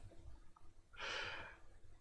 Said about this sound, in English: She sniffles.